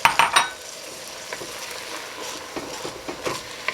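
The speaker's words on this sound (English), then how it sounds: "we're going to stir that and just let that cook for about a minute or so" Risotto rice with dry white wine is stirred in a pan with a spoon, giving a soft sizzle under scraping and a few clinks at the start, then quieter scraping strokes.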